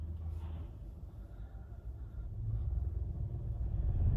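A car held on half clutch on an uphill slope gives a low, steady engine rumble with a vibrating drone that grows louder toward the end.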